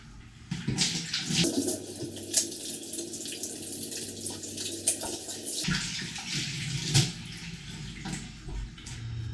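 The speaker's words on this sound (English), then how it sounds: "of course we're going to wash our hands" Hands washed under a running tap at a camping site: a steady gush of water splashing and shifting in tone partway through, fairly loud and close, with no voices.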